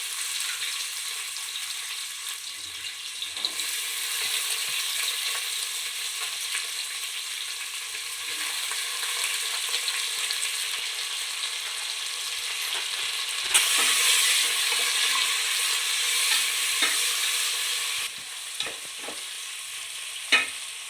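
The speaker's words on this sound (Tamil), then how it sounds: "கொஞ்சம் வெங்காயம் வந்து பொன்னிறமாக ஆகட்டும்." Onions fry with cardamom and cloves in a pan, a steady close sizzle running throughout, punctuated by light scrapes and taps of stirring.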